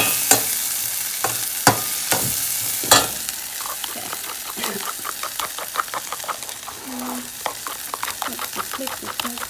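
Radish and collard greens sizzle in a hot pan while a utensil stirs and scrapes them, with sharp clacks early on and then a busy run of lighter stirring, close and continuous.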